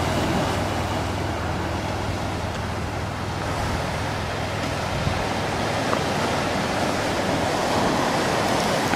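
Ocean surf rolls onto Leo Carrillo Beach along the coastline, a steady broadband wash of waves that stays loud and even throughout with no talking.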